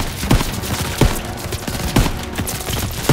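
Rapid gunfire rattles in the video game Call of Duty WWII, a dense, loud barrage of shots that keeps hitting in quick, uneven bursts with no pause.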